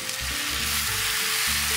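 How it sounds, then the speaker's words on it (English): Leftover food fries in a hot pan with a loud, continuous crackling sizzle close to the microphone, accompanied by low stirring or scraping noises and no talking. "Maybe I should let them hear the sizzle."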